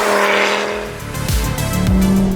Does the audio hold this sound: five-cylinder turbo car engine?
yes